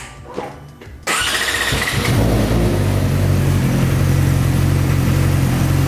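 A Yamaha R6 sport motorcycle with a LeoVince full exhaust system cranks and fires up, then settles into a loud, deep, throaty idle close by, with no talking.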